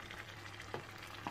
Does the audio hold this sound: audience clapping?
no